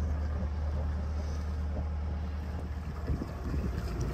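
Constant low rumble of a boat's engine at sea in the Dodecanese, Greece, heading from Arki to Samos, with wind and water rushing past, steady and fairly loud throughout.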